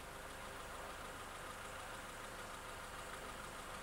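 An Austin Rover S-series engine with an HIF44 carburettor idles steadily throughout, a constant broadband hum and mechanical clatter with no change in pace.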